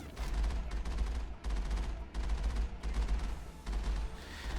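Geth Colossus in the video game Mass Effect fires laser blasts in repeated rapid bursts, crackling like distant gunfire, moderately quiet and continuous with brief gaps between volleys.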